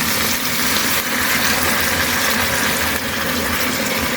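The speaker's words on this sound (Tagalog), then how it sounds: "lagyan siya ng tubig." Water is poured into a pan of frying fish with okra and tomato, a loud continuous rushing hiss and sizzle that holds steady throughout with brief dips.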